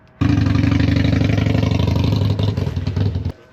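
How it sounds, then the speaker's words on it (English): A Harley-Davidson 1200 Sportster motorcycle engine booms in close and loud with a steady lumpy V-twin throb, then the rumble drops away and cuts off as it rides off. "That was my buddy Mason leaving in his 1200 Sportster"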